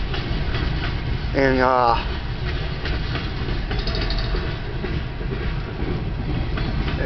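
A northbound CN freight train with a CP locomotive rolls past in Kimball Township, Michigan, a steady loud rumble and clatter of wagons throughout, with a brief horn-like tone early on and someone talking over it.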